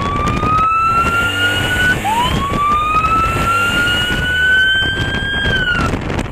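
A loud wailing siren sweeps up and holds, drops, then rises again over a constant rumble of road traffic.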